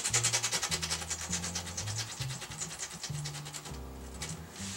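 A pad rubs rust remover into bathroom grout with steady back-and-forth scrubbing strokes, close and continuous, with a low hum underneath.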